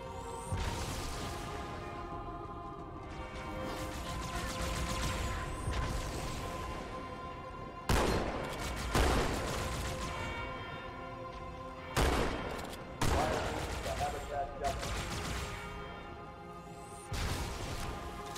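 Turret gunfire rattles in the Halo 2 video game as dense, continuous mechanical firing with sharper bursts and impacts standing out at several points.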